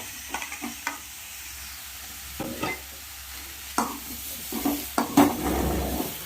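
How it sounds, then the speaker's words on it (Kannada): Ginger and garlic fry in a little oil in a pan, a steady sizzle broken by repeated stirring scrapes and sharp clinks of a utensil against the pan, growing busier toward the end. "ಶುಂಠಿ, ಬೆಳ್ಳುಳ್ಳಿನ ಫ್ರೈ ಮಾಡ್ಕೊಳ್ಳೋಣ ಸ್ವಲ್ಪ ಎಣ್ಣೆಯಲ್ಲಿ."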